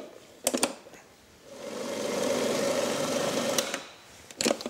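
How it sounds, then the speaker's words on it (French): A food mixer blends praline paste for a chocolate molding recipe, with a steady mid-pitched motor whir lasting a couple of seconds between sharp clatters of handling noise at close range. "Et là, on va mixer le tout ensemble."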